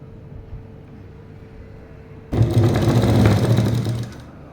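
A sewing machine stitches the folded-under hem of a straight pant, starting suddenly from a quiet room and running in a steady, loud buzzing burst of about two seconds before stopping.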